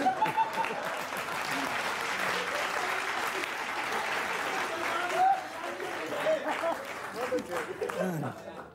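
Audience at a comedy poetry show breaking into sustained applause, a dense wash of clapping running the whole time with scattered voices and faint chuckles beneath.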